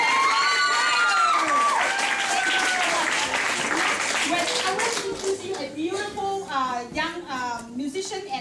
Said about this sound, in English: All of these choir, ladies and gentlemen, a round of applause